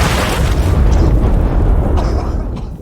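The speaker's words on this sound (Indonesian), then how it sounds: "lari menuju kawat jebakan tersebut dan meledak" A landmine tripwire explosion in a First World War setting: a loud, sustained explosive roar with heavy low rumble that stays dense for several seconds before tapering slightly.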